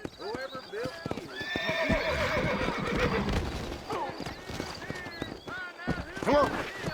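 In the Red Dead Redemption video game, a horse neighs and whinnies several times over clip-clopping hooves that build into a run, with spoken dialogue mixed in.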